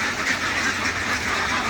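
A flock of healthy domestic ducks near a pond gives a continuous, moderately loud chatter of quacks against steady outdoor ambience.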